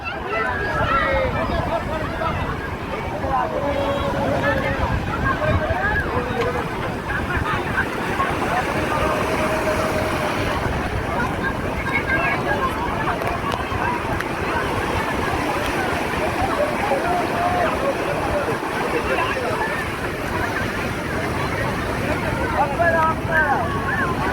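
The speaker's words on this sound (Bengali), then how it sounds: "খালি ঢেউটা হচ্ছে, দেখো।" Sea waves break continuously on the beach at Puri, a dense, steady roar of surf with wind buffeting the microphone and voices talking throughout.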